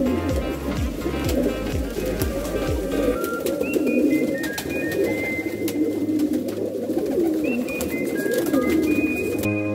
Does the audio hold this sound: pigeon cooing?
yes